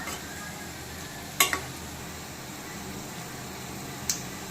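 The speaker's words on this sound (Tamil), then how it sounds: "இப்போ இது 2 சைடும் நம்ம கிளறி விட்டுக்கலாம். அடுப்பை லோ ஃப்ளேம்லேயே வச்சு நல்லா வேக வச்சு எடுத்துக்கலாம்." A frying snack being stirred in a pan over a low flame: a quiet, steady sizzle with two brief scraping clinks of the spoon against the pan.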